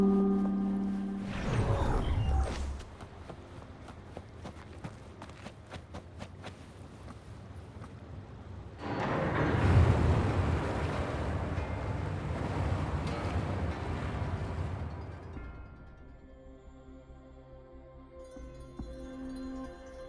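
Water drains away in the video game Wuthering Waves: a rushing, whooshing swell builds and fades over several seconds, framed by softer ambient game sounds and a brief rush near the start.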